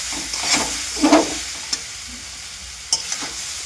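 Greens frying and wilting in a pan, a soft close sizzle with several light scraping stirs and a few sharp clicks of the spoon against the pan.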